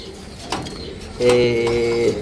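Lahori, Sirazi and Giribaz pigeons coo close by in a short burst, a low throaty purring call starting partway through after a few faint knocks.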